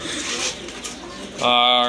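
Pigeons at a pigeon sale coo nearby. The cooing is brief and soft, and a person's voice joins it toward the end.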